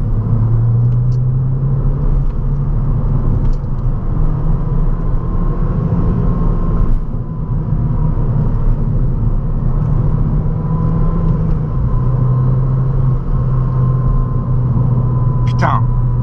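Ford Fiesta with a 182 hp engine pulling hard on the road, a steady loud low drone that rises and falls slightly as it accelerates, with road and wind rumble throughout and no pauses.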